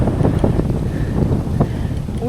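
Strong wind buffets the microphone during a long-distance bike ride, a steady loud low rumble throughout, with brief voice sounds over it.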